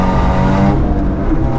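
A Seat Ibiza Cupra engine on the Nürburgring blips and revs sharply during a heel-and-toe downshift, loud and close from inside the car.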